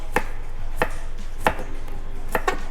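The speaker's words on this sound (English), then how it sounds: "We got some fresh garlic right here, and we're gonna chop that up." A knife chops fresh garlic on a cutting board, five sharp, separate strikes at an uneven pace, close and clear against a quiet background.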